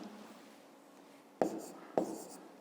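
Pen on paper while writing out a long division for a fifth-grade math problem: two short, distinct scratchy strokes near the end over a quiet room, faint and close.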